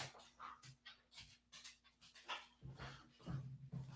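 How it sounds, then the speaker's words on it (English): A dog pants in an office, quick rhythmic breathy huffs close to the mic, joined by a few soft low whimpering or grumbling sounds near the end, with no talking. "I gotta let this dog out of my office."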